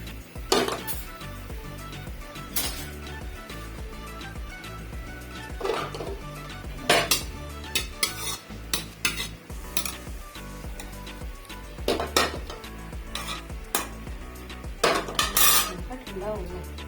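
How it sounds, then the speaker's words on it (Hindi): Boiled chickpea greens (saag) are drained in a metal pot for a Sindhi village-style dish, with steady clanking and scraping of utensils and sharp metallic clinks recurring throughout, close up and alone without talk. "तो मैं अब इसका पानी जो है वो छान लेती हूँ।"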